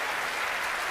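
Audience applause at a live paranormal show, a dense, even wash of clapping that runs steadily throughout a brief moment.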